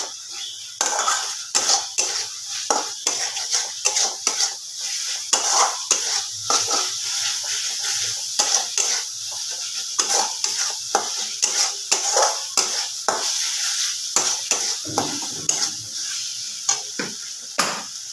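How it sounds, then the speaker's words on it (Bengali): Spice masala stir-fried in a pan over a gas stove, with a steady sizzle under repeated scraping and stirring strokes of a utensil against the pan, close and fairly loud throughout. "খুব ভালোভাবে কষাবো। গ্যাসের ফ্লেমটা একটু বাড়িয়ে নিলাম।"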